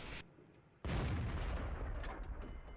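Tank gun in the World of Tanks video game firing a blind shot on the El Haluf map, a heavy booming blast that lands suddenly after a short lull and rolls on into a long rumbling decay.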